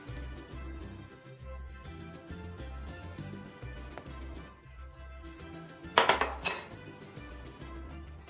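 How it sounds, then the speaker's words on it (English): Sugar and eggs being mixed in a bowl by hand. A utensil taps and scrapes steadily against the bowl in a quick rhythm, with a brief louder clatter near the end. The sounds are close and moderately quiet. "We mix all the sugar with the eggs, 1 egg and another egg, and we mix everything together well."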